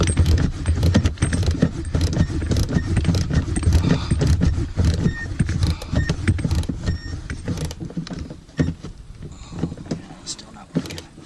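A ratchet loosens the bolts of a Jeep rear seat during a recline kit install: dense, rapid metallic clicking runs throughout, close and fairly loud, with some rattling like jangling metal.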